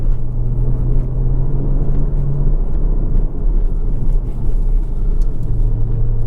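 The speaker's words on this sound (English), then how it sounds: "you can really feel the power and the torque of this boxer motor" A Porsche 981 Cayman S with a naturally aspirated 3.4-liter six-cylinder boxer engine and sport exhaust drones steadily and loudly under way, a deep continuous rumble with a sustained engine tone that holds for the whole stretch, with no talking.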